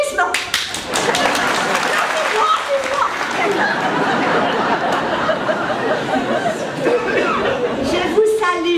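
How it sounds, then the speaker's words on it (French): An audience at an evening stage show claps in a loud, lively burst, with scattered individual claps at the start and end and some chatter and chuckles mixed in. "voici mes applaudissements"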